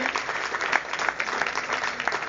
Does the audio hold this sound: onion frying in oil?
no